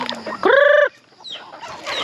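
A close native chicken gives one loud, drawn-out cluck, followed by softer farmyard background noise and faint chirps.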